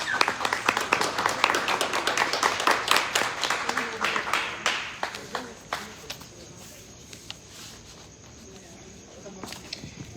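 An audience applauds to welcome two guests to a panel, a dense burst of claps that thins out gradually into scattered, fading claps and near quiet.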